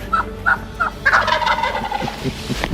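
Wild turkey gobbling during turkey season: a few short gobble bursts up front, then a longer rattling gobble, carrying clearly over faint outdoor background.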